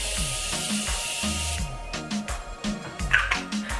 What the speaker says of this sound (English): we are going to use the Morphe setting spray.